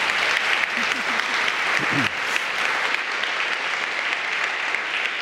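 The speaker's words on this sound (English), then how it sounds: "Let's give a round of applause to our panel." An audience claps steadily, a dense wash of applause lasting throughout, loud and close with a brief murmur early on.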